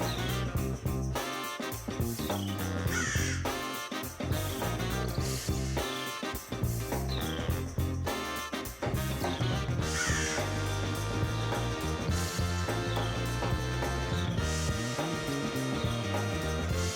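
Crows cawing after snatching a squirrel's bag of food, their harsh calls repeating over a dense, loud continuous background that keeps them partly buried.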